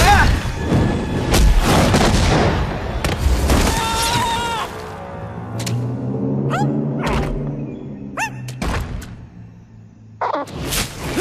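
Slug fired from a blaster in the Slugterra cartoon, a loud booming shot followed by whooshing, whistling effects and further pops, set among animated sound effects and music.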